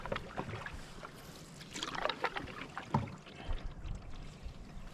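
Canoe paddled through shallow water on a camping trip, with irregular close splashes, drips and paddle knocks over a steady outdoor background.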